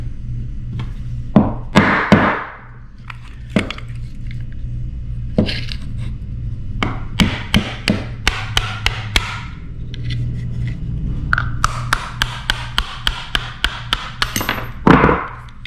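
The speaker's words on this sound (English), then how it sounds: "drive the mainspring housing pin out of the grip module and mainspring housing with a punch and a hammer" Sharp metallic hammer strikes, some single and some in quick bursts, tapping a punch close up to drive a mainspring housing pin out of a Staccato pistol grip module, with brief pauses between groups of blows.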